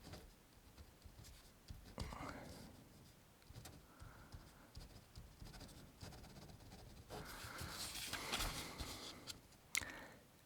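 A Pilot Frixion Ball pen scratches across paper in short strokes, with soft rustling and a few brief taps, fairly close and quiet throughout.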